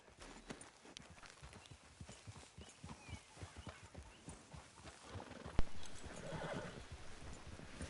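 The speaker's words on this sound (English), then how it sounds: "That white horse looks way too small for Dutch" A horse's hooves clip-clop steadily in Red Dead Redemption 2, and a whinny rises partway through, nearby and moderately loud.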